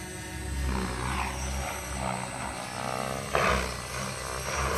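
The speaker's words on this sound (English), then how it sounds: "The sound that you hear is just this one, 3D helicopter." A close, buzzing rotor hum from an RC 3D helicopter with a low throbbing drone, steady with slight swells in pitch as it hovers and turns.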